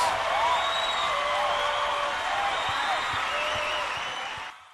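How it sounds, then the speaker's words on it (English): A round of applause from an audience fills the space as a dense, steady wash of clapping with scattered whoops and cheers, sustained loudly before fading at the end. "So give yourselves a round of applause, everybody, please."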